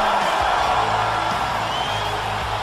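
Arena crowd in WWE 2K19 cheering at a Baltimore event as a wrestler makes his entrance, a steady loud roar with whoops and yells throughout, under low background music.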